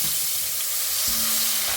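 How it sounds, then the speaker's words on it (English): Cast-iron pot sizzling loudly as Guinness is poured in to deglaze it for Irish stew, a dense, close hiss of frying and steam that runs continuously, with a brief stir midway. "open the Guinness and use it to deglaze this pot"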